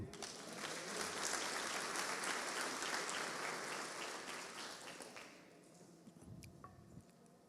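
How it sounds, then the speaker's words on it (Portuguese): A church congregation bursts into a warm round of applause during a sermon, dense for about five seconds before thinning into scattered, fading claps. "Vamos aplaudi-lo?"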